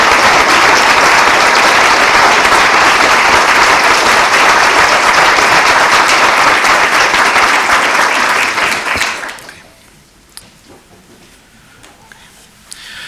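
Warm audience applause greeting a lecturer at a university memorial lecture, dense steady clapping from a large hall that tapers off and stops, leaving near silence.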